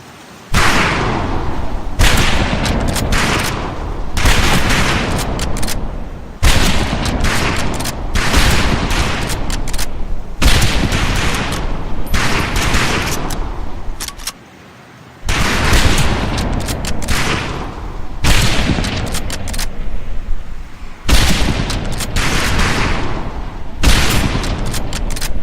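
Rifle volley fire on a shooting range in Medal of Honor Pacific Assault, a loud dense fusillade of overlapping gunshots and booms going almost nonstop, with one short lull partway through, no voices.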